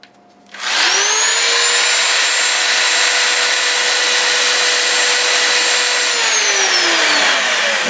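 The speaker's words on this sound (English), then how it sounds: "let's see what this drill takes." An electric drill draws power from a Jackery Solar Generator 3000 Pro. The motor spins up to a steady, loud, continuous whine, holds for about five seconds, then winds down near the end.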